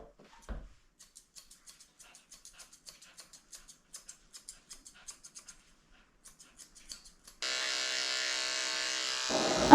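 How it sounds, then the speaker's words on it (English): Electric clippers trim the hair on the foot pads of a Maltese poodle mix during grooming: a quiet run of short scratchy buzzing strokes, then a steady close motor hum near the end. "I'm shaving the pads of her feet out because the pads of her feet grow hair, and also between the toes"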